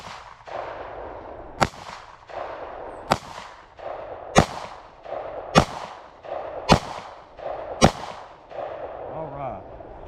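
Seven sharp, loud handgun shots ring out at close range, spaced evenly about one and a half seconds apart, each a crisp crack with a short decay.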